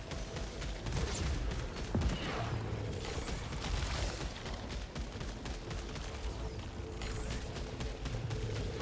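Burst-fire weapon shooting in the video game Returnal, a dense run of rapid gunfire bursts and booming impacts, loud and continuous throughout with layered mechanical sci-fi effects.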